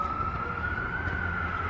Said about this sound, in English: they started with the police sirens